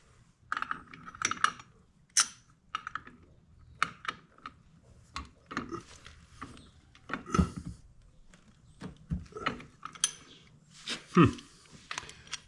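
A hand ratchet turns a custom-made socket while working on a GL 500 motorcycle clutch, giving bursts of close, sharp clicking and metallic knocks separated by short pauses.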